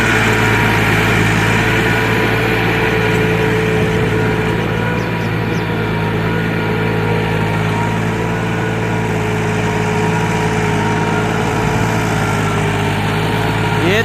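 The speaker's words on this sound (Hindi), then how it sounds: "कैसा ये ट्रैक्टर परफॉर्म करता है सुहागे के साथ" A Massey Ferguson MF 260 turbo tractor drags a planker through a flooded rice field during puddling, its engine droning steadily and loudly for the whole stretch with constant low hum and no pauses.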